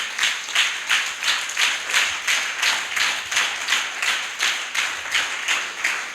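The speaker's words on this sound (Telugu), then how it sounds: "గట్టిగా చప్పట్లు కొట్టండి" A church congregation claps loudly in unison during a Telugu sermon, a steady rhythmic beat of about two claps per second that carries on throughout with no talking.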